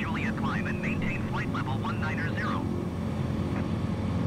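Savage Cub light aircraft from Slim Aviation in Microsoft Flight Simulator 2020, its engine droning steadily throughout at takeoff, with someone talking over it for the first half.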